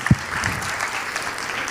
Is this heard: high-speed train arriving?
no